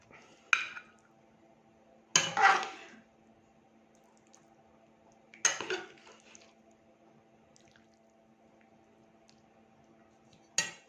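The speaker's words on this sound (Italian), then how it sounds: "Adesso andiamo ad impiattare." Plating cooked rice and fish fillets in a kitchen: four separate clinks and scrapes of utensils against plates and pans, spaced a few seconds apart, with a faint steady hum in between and no speech.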